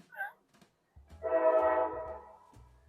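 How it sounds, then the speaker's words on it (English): A train sounds a long horn blast at moderate distance, with low rumbling wheels and engine passing beneath it after a brief earlier honk. "There's a train."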